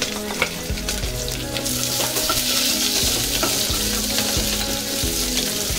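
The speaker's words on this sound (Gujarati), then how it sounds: "તેલ ગરમ થઈ ગયું છે પેલા આ બધા ખડા મસાલા છે એ નાખશું" Whole spices and cumin seeds frying in hot oil, a close, steady crackling sizzle with occasional stirring clinks and scrapes, with no talking.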